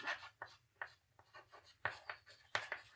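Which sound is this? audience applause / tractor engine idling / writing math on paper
writing math on paper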